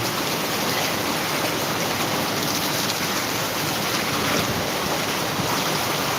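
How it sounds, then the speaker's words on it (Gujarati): Heavy rain pours down in Jamkandorna as a dense, unbroken roar of falling water that stays loud and even throughout. "જોઈ લેજો મિત્રો અત્યારે જામ કરોડામાં ધબધબાટી બોલાવે વરસાદ"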